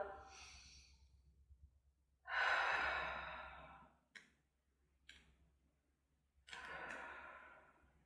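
Breath exhaled slowly through the mouth during a foam roller stretch on an Orb Extreme, a few long airy sighs with quieter breaths between, close and soft in a quiet room.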